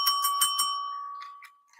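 Bell ringing as a quick burst of four bright metallic dings, like a bicycle bell, followed by a lingering ring and a few softer clicks as it fades, with no voices.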